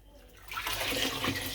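Water streams and drips loudly off a bleached lace wig as it is lifted out of a basin of tinted water, starting quiet and turning into a splashing pour halfway through.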